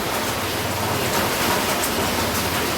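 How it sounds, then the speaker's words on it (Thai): Heavy rain pours steadily and loudly during a solar panel installation on a house, a dense continuous hiss with no voices. "ฝนตกหนักนะ"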